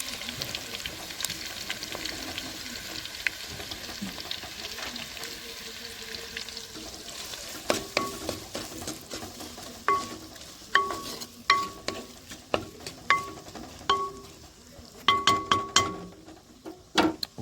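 Onions frying in a pan give a soft, continuous sizzle. In the second half, sharp clinks and taps from a utensil against the pan come in uneven bursts. Nobody speaks.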